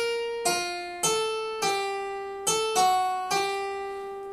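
The top voice of William Byrd's choral Miserere: a single melodic line of six sustained notes, each entering with a clear attack and slowly fading, played alone at a steady, unhurried pace.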